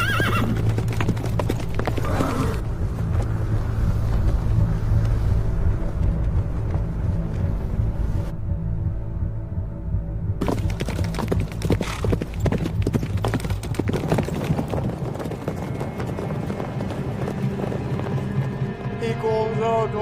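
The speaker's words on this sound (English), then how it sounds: "he looks towards his steed and spurs his steed" A horse gallops in a loud, rapid clip-clop of hooves, accompanied by neighing and whinnying amid dramatic background sound, with a short near-silent gap midway before the hoofbeats resume.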